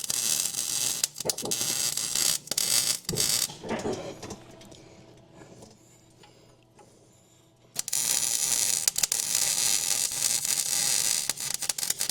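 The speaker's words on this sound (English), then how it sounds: "little bit more welding here." Spring seat repair being welded, a loud steady broadband crackling sizzle that runs for several seconds, drops away briefly, then resumes just as harshly and continuously.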